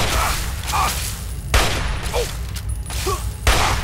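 Gunfire in Fallout 3 comes in loud bursts of shots and booms with short gaps between volleys, and a voice is briefly heard.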